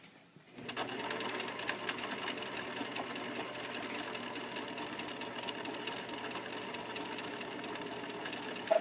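A buttonhole sewing machine runs steadily, stitching a buttonhole with a continuous close mechanical whir that starts after a brief quiet moment and holds at an even level throughout.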